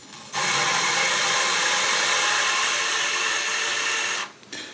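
A rifle receiver is lapped for a 6.5 Grendel build, giving a steady gritty grinding that starts abruptly, holds evenly for about four seconds, then stops.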